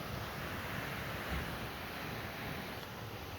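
A river flows below a tall undercut cliff on an Appalachian hike, a steady, broad rushing wash of water that stays even throughout, heard alone at a distance.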